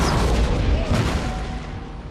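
Cannon artillery fire in the video game Empire: Total War, a loud, deep booming roar that rumbles and fades over a couple of seconds.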